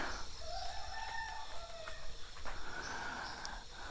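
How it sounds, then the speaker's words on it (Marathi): A rooster crows at dawn in a Konkan village near Guhagar, its long drawn-out call carrying over soft morning ambience and distant birds, with a second shorter crow following. "कोंबडोबा आरवतो आहे"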